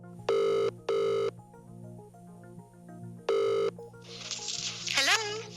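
A telephone rings for an incoming call, three loud electronic trill bursts with pauses between them over soft background music, followed by a noisy pickup and a brief voice.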